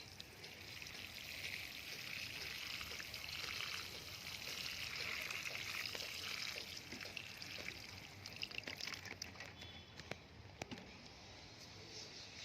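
Water pours and trickles steadily onto potted soil after planting chrysanthemum seedlings, then a few soft taps and splashes follow near the end; no voices.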